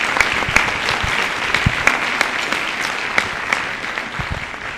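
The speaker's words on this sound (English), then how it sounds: "And another round of applause for the concert band under the direction of Mr." An audience at a high school winter band concert applauds the concert band, a dense, steady clapping from many hands that carries on without a break.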